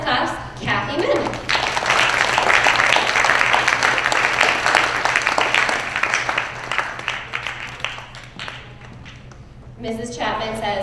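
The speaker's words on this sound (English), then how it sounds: "Let's give her a big round of applause" An audience at a school Student of the Month assembly breaks into sustained applause that swells and then tapers over several seconds, with a person speaking briefly before and after.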